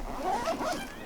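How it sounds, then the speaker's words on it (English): A bag zipped shut in one quick, continuous zip lasting about a second, close and clear with no talking over it. "And zip up my bag."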